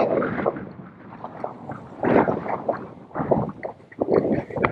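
Gusty 15 to 20 mph wind at Flamingo Campground on Florida Bay buffeting the microphone in loud, uneven bursts, with faint water sloshing underneath and no voices.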